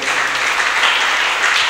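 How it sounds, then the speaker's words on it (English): A church congregation applauds together, a dense, steady wash of many hands clapping that stays loud and continuous throughout, with no speech on top. "Let's clap our hands together."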